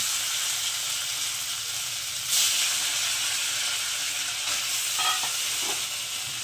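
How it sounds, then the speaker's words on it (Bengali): Paneer cubes sizzling in hot oil in a heated kadai, a steady bright hiss with a louder burst of frying partway through and faint stirring clinks toward the end. "এবার পনিরগুলোকে আমি এই কড়াইয়ের মধ্যে দিয়ে একটু হালকা সাঁতলে নেবো"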